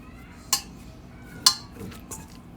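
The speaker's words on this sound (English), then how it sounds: "then we're going to give it a nice mix" Utensil clinks and scrapes against a bowl as flour dough with a little ghee is mixed for modak, two sharp knocks standing out among softer stirring sounds, close and fairly quiet.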